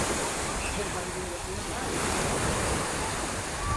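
Steady wash of sea surf at a shore where fishermen launch a boat, a continuous broadband rush with wind noise across the microphone and no distinct break; faint voices may sit underneath.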